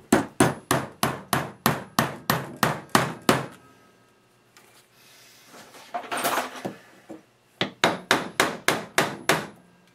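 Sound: hammering a piece in on the edge

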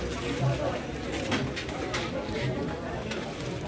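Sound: pigeons cooing

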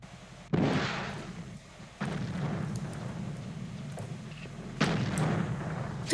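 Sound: explosion in video game Battlefield 1942

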